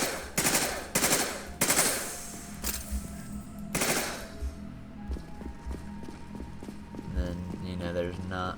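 Rapid bursts of gunfire from Mass Effect 2 as a container is shot, several loud clustered volleys early on, then lighter game sounds and effects with music-like tones.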